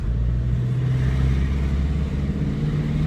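A Renault Symbol 1.5 dCi diesel car on a road test, its engine giving a low, steady rumble with a slight rise in revs, heard close for a few seconds without talking.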